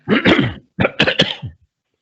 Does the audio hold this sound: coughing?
yes